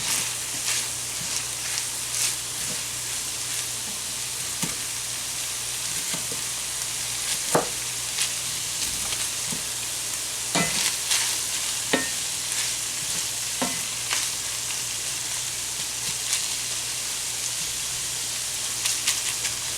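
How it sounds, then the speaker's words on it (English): Chopped onion and baby portobello mushrooms sauté in a pan, giving a steady low sizzle with occasional stirring clicks and scrapes, moderately close and without talk. "I'm going to go ahead and add my chopped onion. Saute that for a minute."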